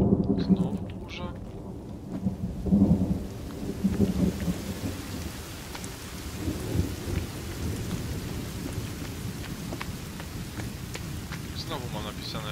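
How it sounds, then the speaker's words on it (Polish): Thunder rumbles over steady rain in the survival video game The Forest, with a loud rolling crash early on fading into continuous rainfall while people talk quietly underneath. "Znowu burza."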